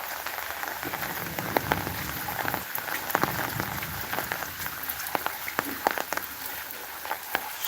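Heavy rain pours steadily onto a surface, a dense hiss with scattered sharper drops pattering throughout, close and continuous.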